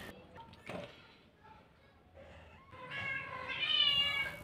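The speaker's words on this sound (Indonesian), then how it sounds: "Ada kucing-kucing besar dan anak kucing yang bermain bersama" Stray cats and kittens at a street-cat shelter, with faint shuffling and knocks followed by a rising, drawn-out meow up close near the end.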